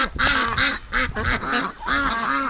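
Several female ducks, including Muscovies, quack loudly and close by in repeated, overlapping bursts, a rapid run of harsh calls with short gaps between them.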